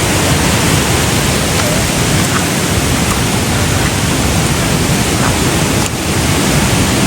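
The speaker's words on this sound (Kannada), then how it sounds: "ವಾಟರ್ ಫಾಲ್ಸಿಂದ ಬರೋ ನೀರದು." Water pours down from small forest waterfalls near Honnavar, a loud, unbroken rushing roar that fills the whole stretch evenly, close by and with no voices.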